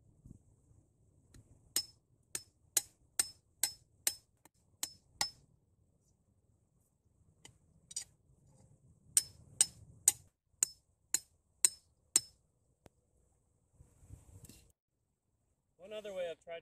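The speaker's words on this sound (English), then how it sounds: "just dig out a level and pound in the rebar, and fill it back in" A hammer pounds rebar into the ground for cinder block steps at an outdoor permaculture bike park. Two runs of about eight sharp, evenly spaced metallic strikes are separated by a quiet gap, and a brief voice comes near the end.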